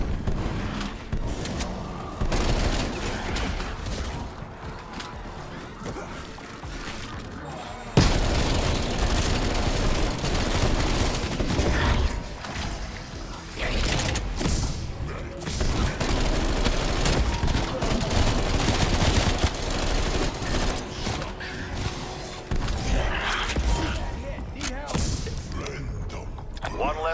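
Sustained gunfire in Call of Duty Cold War Onslaught, a dense wartime game battle with bursts of shots, thuds and mechanical clatter running continuously at high level, with voices mixed in.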